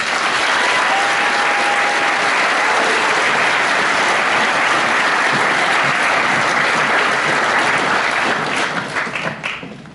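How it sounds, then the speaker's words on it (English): A graduation crowd applauds Year 13 graduates after their names are read out. The clapping is loud and continuous for around nine seconds, then thins and fades. "Round of applause for them, please."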